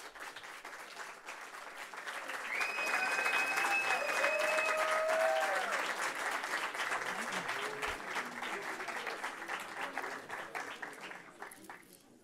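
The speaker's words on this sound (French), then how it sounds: "Veuillez applaudir bien fort Raiden." Audience at a student eloquence contest in Tours applauds a speaker, a steady wash of many hands clapping that swells and then slowly fades, with a few faint whistles and voices mixed in.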